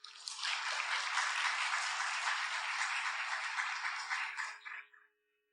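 Dense applause from a church congregation welcoming a pastor fills about five seconds, steady and loud, then fades out and stops.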